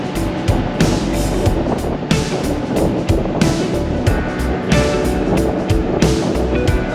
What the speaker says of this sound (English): Those are 3-foot waves.